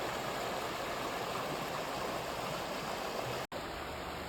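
Steady broadband rush of the Chattahoochee River flowing at low water, a constant outdoor wash with a brief dropout near the end.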